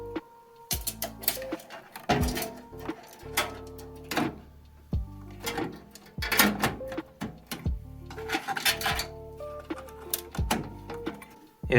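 Screws are driven in by hand to mount a PC motherboard inside a case, giving repeated sharp metallic clicks and ratcheting taps in irregular bursts close up, with short pauses between turns and no talking.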